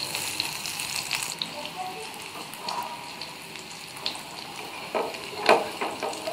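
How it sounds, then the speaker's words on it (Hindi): Bread cutlets fry in hot oil, giving a soft, steady sizzle with a few louder pops and stirring sounds, while someone talks over the cooking. "अब हम इनको इस तरह से फ्राई कर लेंगे।"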